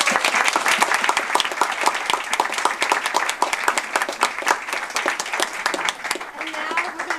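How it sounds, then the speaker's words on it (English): Audience at a Toastmasters meeting applauds the panelists, with dense, steady clapping that fills the room at a consistent loudness for several seconds without letting up. "And a big round of applause for our panelists."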